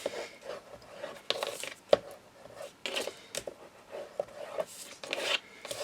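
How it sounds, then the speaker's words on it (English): Tape being burnished down onto the spine mounts of a double folio album, irregular close scratchy rubbing strokes with small taps, heard alone without talk. "again, burnish this down"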